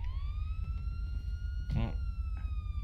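Police car siren in GTA V, a steady wailing tone sustained in the background throughout while voices speak over it.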